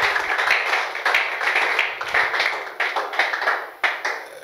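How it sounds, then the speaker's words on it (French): A church congregation clapping and cheering for the Lord, a steady rhythmic wave of many hands close by, bright and continuous with sharp accents throughout. "Est-ce qu'on peut acclamer pour le Seigneur?"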